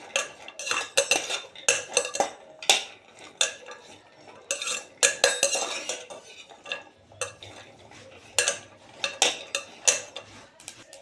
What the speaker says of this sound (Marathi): चांगलं थोडंसं रोस्ट करून घ्यायचे, हलवत राहायचे, नाही तर मग काळे पडतील